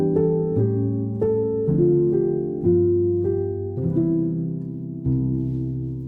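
Piano playing a simple 3-6-2-5 jazz chord progression, a steady series of warm, full chords struck one after another with sustained decay, solo and close with no talking.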